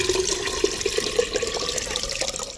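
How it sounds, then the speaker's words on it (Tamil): Water is poured into a pot for shallot ghee pongal, a continuous close splashing and gurgling stream with small bubbly plops along the way. "அதுக்கு தேவையான அளவு தண்ணி ஊற்றிக்க போகிறோம்."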